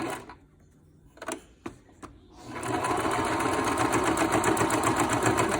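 Sewing machine stitching back over the seam of a fabric mask: a few soft isolated clicks and taps, then a steady, fast mechanical whir of needle strokes running continuously to the end.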